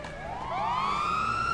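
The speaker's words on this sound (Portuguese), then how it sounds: "sirene de polícia" A police siren in GTA V whoops upward in a single rising sweep, clear and fairly close, over a low background hum.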